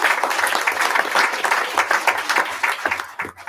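A room at a school district board meeting breaks into a sustained round of applause, dense clapping from many people continuing throughout with a few scattered voices.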